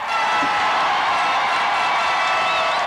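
A large crowd of Red Wings fans at the Stanley Cup parade roars continuously, a dense steady wash of cheering and distant shouts with no pauses.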